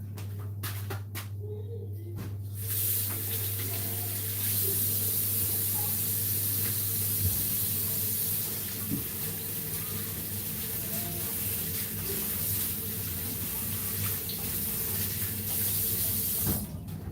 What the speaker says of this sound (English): Let me rinse off my board.